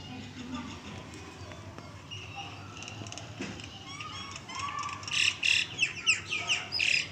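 A flock of crows caws and squawks in the morning near trees where pigeons, mynas and squirrels gather, harsh calls rising louder and more frequent toward the end over steady outdoor background noise.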